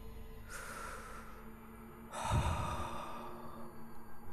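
Voice imitating a ghost breathing in and out, with two long, close, breathy exhales, the second deeper and ending in soft rhythmic puffs.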